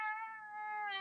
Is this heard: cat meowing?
yes